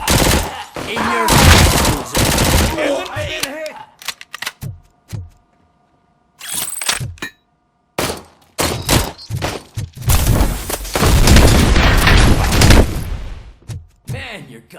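Bursts of video-game gunfire from Robocop: Rogue City, loud and close, arriving in clustered volleys and single shots separated by brief quiet gaps, with a dense sustained barrage near the end.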